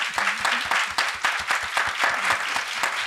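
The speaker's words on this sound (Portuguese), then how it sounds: "Recebam comigo com muitos aplausos, Elisama Santos." A studio podcast audience applauds steadily, many hands clapping loudly and continuously as a guest is welcomed on stage.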